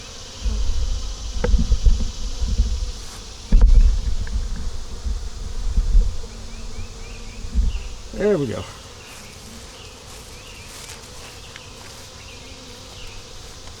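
Dense honeybee buzzing fills the air at close range at a hive, steady and droning, with some handling thumps and a short remark early on.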